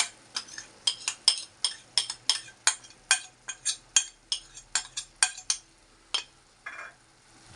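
Yogurt is stirred into a shrimp kishk sauce in a pot with a metal spoon, making a quick series of about twenty sharp clinks and scrapes against the pot in a steady rhythm, close and clear, then a brief soft scrape at the end.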